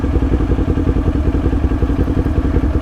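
Suzuki GSX-R750 motorcycle engine running close by, a loud, steady rapid throb with clattering mechanical pulses, throttle held fairly even across the short stretch.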